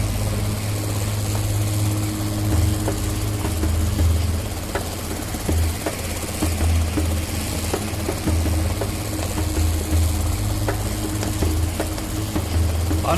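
A small motorcycle engine idles and putters steadily at close range, a low droning hum with slight fluctuations throughout, no talking.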